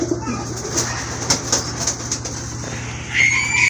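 Pigeons kept for sale, a pair of large deshi and fancy birds, coo softly in a low steady murmur while wings flap and faint chirps rise, with a brief sharper call near the end.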